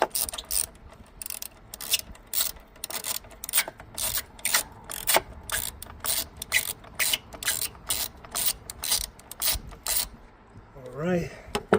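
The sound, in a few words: ratchet with extension and 12mm socket loosening car battery bolt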